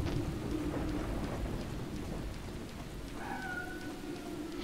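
Rain and thunder ambience in the video game Deadly Premonition: steady hissing downpour with a low rumbling roll of thunder and a faint short tonal sound partway through, with no talking.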